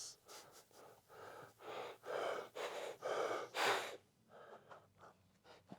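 A person breathes in and out through a dirty part of a Stihl MS362 chainsaw, producing a series of loud, close, rhythmic hollow breaths with wheezy, snorting edges.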